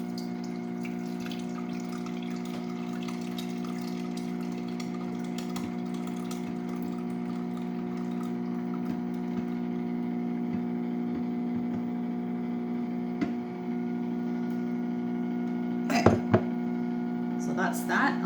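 A Pampered Chef ice cream maker runs with its mixture poured in, producing a steady low motor hum with a tonal drone throughout, faint scraping and clicks on top, and a few louder knocks near the end.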